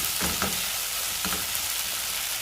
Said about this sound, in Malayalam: ഇത് നമ്മൾ ഹൈ ഫ്ലെയിമിലിട്ട് 1 മിനിറ്റോളം ഒന്ന് ചൂടാക്കുക.